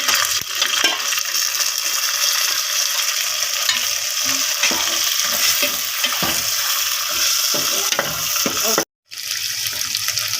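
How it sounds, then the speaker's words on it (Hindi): Boiled kaleji (liver) frying in oil with browned garlic and onion, a steady sizzle with stirring scrapes throughout and a brief break near the end. "अब इसमें मैंने जो कलेजी बॉईल करके रखी हुई है वो इसमें ऐड कर दूंगी, ताकि लहसुन में इसकी अच्छी तरह से भुनाई हो जाए"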